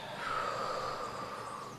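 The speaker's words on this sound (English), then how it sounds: "2 sniffs in through the nose, and a deep, full exhale through the mouth" Guided breathing exercise: two quick sniffs drawn in through the nose, then a deep, full exhale out through the mouth. The breath sounds steady and close over a soft, continuous background hum.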